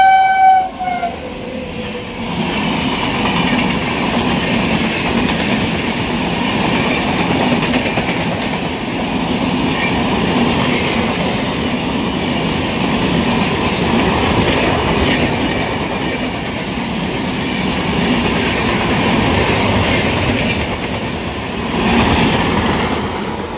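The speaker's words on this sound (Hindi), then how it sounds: "Visakhapatnam Hazrat Nizamuddin Vizag steel Samta superfast express" A Samta Superfast Express passing a railway crossing at Sarona station, its horn sounding near the start before a sustained, loud roar of rolling wagons and clattering wheels continues for the whole stretch.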